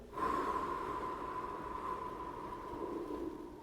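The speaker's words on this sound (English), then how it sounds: "take a deep breath" A single long, deep inhaled breath, close and steady, drawn in for about three seconds with no speech over it.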